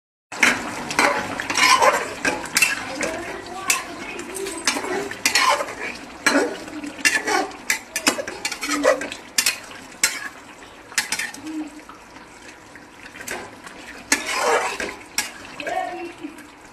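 Eggplant with red chili powder stirred in a pan, close clinks and scrapes of a utensil against metal in irregular bursts over a soft background sizzle.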